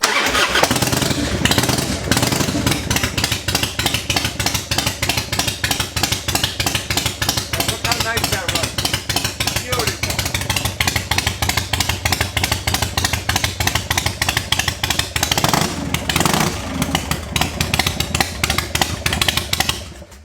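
A 1984 Evolution motorcycle engine, rebuilt in a machine shop, cranks and fires up, then runs with a loud, rapid, even thumping idle that continues close by for the whole stretch.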